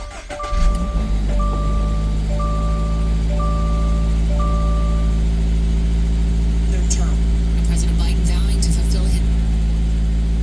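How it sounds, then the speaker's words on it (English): A 2023 Toyota GR86 Premium fitted with a JDM airbox cranks and catches, then settles into a steady, even idle, with a short run of electronic chime beeps just after start-up and faint clicks later. "Check the connections, nothing's loose, so I'm gonna go start the car."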